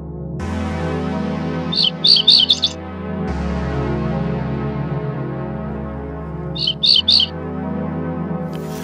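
An electronic bird lure plays ortolan bunting song in short bursts of bright, high chirping notes, two clear phrases a few seconds apart over a loud, steady mechanical hum, with no voices.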